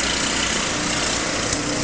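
Snow blower running outdoors during a blizzard, a continuous loud engine roar with a dense, steady rush, close by and unbroken.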